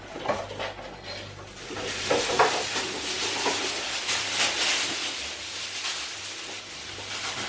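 Aluminium foil crinkles and rustles steadily as sheets are laid and pressed into a roasting dish for a slow-cooked leg of lamb, close and continuous with soft scraping against the dish.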